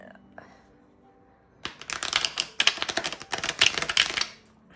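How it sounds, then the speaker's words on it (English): A slippery deck of tarot cards is shuffled up close: quick bursts of riffling, fluttering card slaps in a few rapid passes, loud and crisp. "let's shuffle one more time. And again, this deck's like super slippery"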